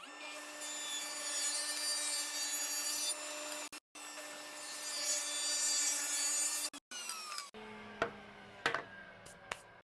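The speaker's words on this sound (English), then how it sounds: "we're going to rip 2 45-degree bevels on either side, keeping in as much width of this board as possible" A saw rips 45-degree bevels along a 2x4 board in steady, loud passes with two brief pauses, then the cut ends and a few sharp knocks and clatters follow.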